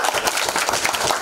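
Dense audience applause fills a music press conference for a singing show, a steady, loud wash of many hands clapping with no pauses.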